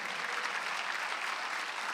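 A church congregation applauds during a Korean Sunday worship service at Jesus-centered church, a steady, even wash of many clapping hands heard at moderate distance with no voices over it.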